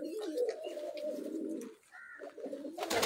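Soft, low pigeon cooing repeats in short rolling phrases, close by and fairly quiet, with a brief higher chirp in the middle.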